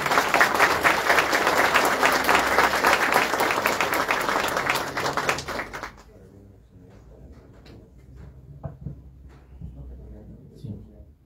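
Congregation applause during an episcopal consecration and enthronement Mass, a loud, sustained wash of many hands clapping for about six seconds that cuts off abruptly, leaving a quiet church with faint shuffles and scattered taps.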